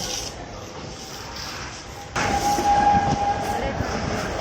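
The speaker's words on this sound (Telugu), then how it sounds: "బ్రేకులు ఫెయిల్ కావడంతో రైలు కొంచెం దూరం వెనక్కు వెళ్లిపోయింది" Kailasagiri hill train in Visakhapatnam rolling backward after brake failure: a quiet rumble swells suddenly into louder rolling rail noise with a brief squealing tone and scraping, as voices murmur faintly in the background.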